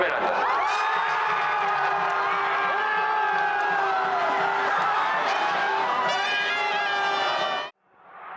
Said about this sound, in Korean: 숨죽인 채 지켜보던 시민들은 환호했습니다